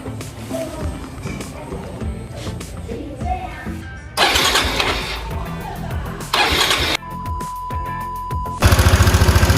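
A Yamaha SMAX 155 ABS scooter engine is started with an abnormal noise, giving loud bursts of mechanical noise and a steady running idle with a rapid, pulsing chatter toward the end.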